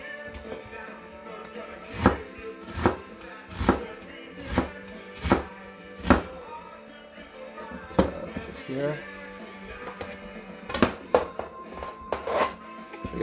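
A knife chops onion on a cutting board in a home kitchen while ribs and hot sauce are being made, giving a series of sharp, distinct thunks at irregular intervals, close and clear, with some quieter clatter between the strikes.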